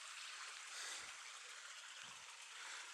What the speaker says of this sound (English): Little Bear Creek.